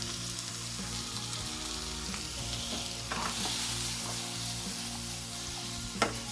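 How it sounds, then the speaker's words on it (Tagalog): Chayote shoots sauté in a hot pan seasoned with pepper, salt and soy sauce, sizzling continuously with steady frying hiss and occasional utensil scrapes and clicks as the greens are stirred. "saka natin ihalo ang ating talbos ng sayote guys"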